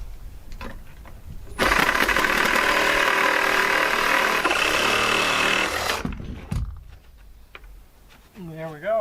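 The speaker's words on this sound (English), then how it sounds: "Now it's easier to see what I'm doing here with the Sawzall." A Sawzall reciprocating saw cuts through material while working on OSB sheathing for a 16x40 cabin, making a loud, steady buzzing rasp for about four seconds before it stops, with a voice speaking briefly afterward.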